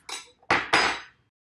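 A metal knife and fork are taken out of a kitchen silverware drawer, giving three quick, bright clinks and rattles of cutlery close by, the last two louder than the first.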